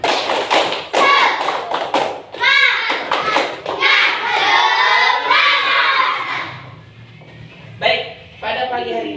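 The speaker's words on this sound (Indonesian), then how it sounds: "Tepuk semangat." Schoolchildren perform a rhythmic spirit clap at a morning school assembly, sharp bursts of clapping in quick patterns mixed with loud shouted chanting voices, then a brief pause before more claps.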